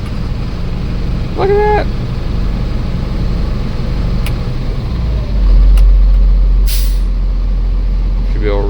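A Cummins diesel engine that sat for years idles in a steady low rumble, with a brief air-brake hiss and a short whistling squeal, then rises louder as the idle is raised, while someone speaks briefly over it.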